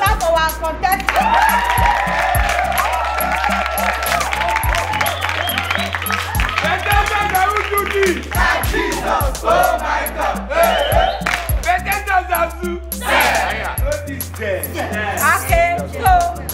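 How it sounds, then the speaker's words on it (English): Audience at a blind cooking competition held by students of a home for the blind, clapping and cheering loudly as a dense crowd roar, with shouting voices and a steady bass hum running underneath throughout. "Let's clap for our contestants."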